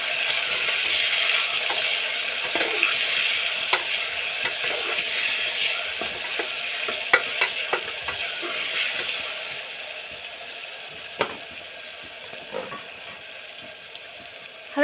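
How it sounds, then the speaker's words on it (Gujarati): Onion gravy and spices being stirred into potato rice in a pan, a steady broadband sizzle with scattered scraping clicks of the spoon against the pan, fairly close and continuous with no talk. "હવે આપણે સારી રીતે તેને મિક્સ કરી અને હલાવી લઈશું થોડી વાર।"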